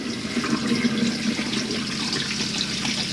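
Water gushes steadily from a pump-pressurised tap into a sink in a Rapido 946 motorhome, a continuous close splashing hiss with no talking.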